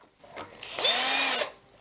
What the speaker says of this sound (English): You may actually destroy your drill this way.